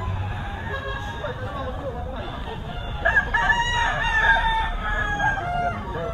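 Gamefowl roosters and stags at a farm crow repeatedly, with loud overlapping cock-a-doodle calls rising in the second half over a background of clucking fowl and human chatter.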